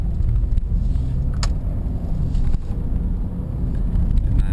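Gusty wind buffets the microphone outdoors, a loud continuous low rumble that surges and eases with no voices.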